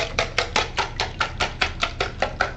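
A whisk beats against the sides of a plastic bowl while scrambled eggs are mixed, giving about a dozen sharp, evenly spaced clacks in a quick steady rhythm, close and fairly loud, with no talking.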